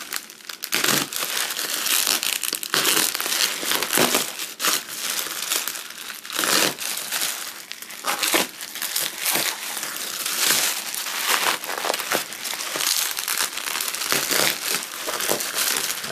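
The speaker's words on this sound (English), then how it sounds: "They have a lot of tape on this bubble wrap. And apparently I have a dull box cutter." Packing tape and bubble wrap around a 1907 Swedish M96 Mauser rifle are sliced and torn with a dull box cutter, giving a steady run of loud, close crinkling, crackling and ripping with no pauses.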